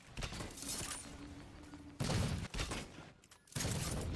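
A remotely triggered sticky detonator charge goes off in Halo 4 multiplayer, giving heavy, crackling explosive bursts with a thunderous blast at two seconds and another at three and a half, over a noisy game backdrop.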